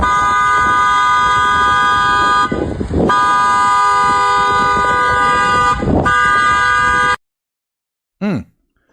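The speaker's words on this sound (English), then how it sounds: "she's blaring her horn over to a sidewalk" A car horn blares in long, sustained blasts with two brief breaks, loud and close, then cuts off, followed by a short faint chirp.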